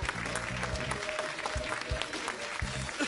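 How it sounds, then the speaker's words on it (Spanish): A studio audience on a game show applauds for the orange team, with dense clapping mixed with low thumps and some background voices. "Aplausos para el equipo naranja."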